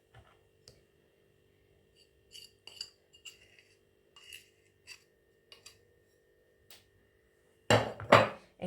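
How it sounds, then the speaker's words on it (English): A utensil mixes egg into donut batter in a bowl, making sparse soft clinks and taps against the bowl that build into a louder burst of scraping at the end. "continue to mix it into this flour consistency"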